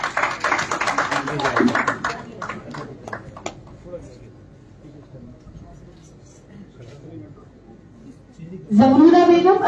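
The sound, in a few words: audience applauding the beneficiaries at an inauguration event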